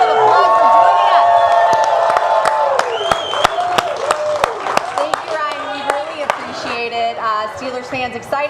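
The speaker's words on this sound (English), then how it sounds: "Steelers fans, can we please give Ryan Shazier a big round of applause for joining us?" Steelers fans at a draft countdown show clap, cheer and whoop loudly. Dense crowd applause carries on while voices shout over it.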